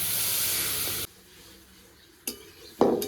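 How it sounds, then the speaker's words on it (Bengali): Water poured into frying masala for a pabda fish and brinjal curry, a loud, hissing sizzle burst that cuts off abruptly after about a second, then quiet with two short, sharp spits of sizzle near the end. "এবার পরিমাণ মতো জল দিয়ে দেবো"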